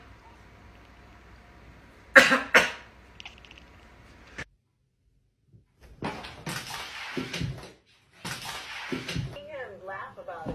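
A person coughs twice in quick, sharp bursts indoors, followed later by a soft thump and brief voices talking at a household setting with a cat nearby.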